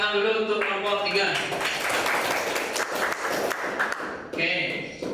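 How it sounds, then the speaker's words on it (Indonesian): Students in a classroom clap for a presenting group, a burst of mixed applause under some music and voices, starting and fading over about five seconds. "Oke, silakan tepuk tangan dulu untuk kelompok 3."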